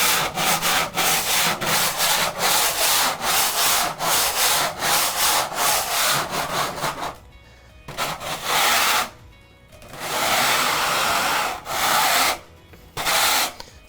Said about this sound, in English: I'll grab that big scraper and show you, it goes real quick